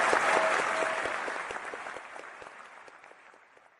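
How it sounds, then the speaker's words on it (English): A canned applause sound effect plays, a burst of clapping that starts fairly loud and gradually thins and fades over a few seconds, heard alone with no talk. "I have a very delayed applause, Left-Handed Jedi."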